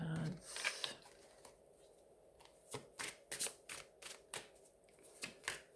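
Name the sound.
shuffling tarot cards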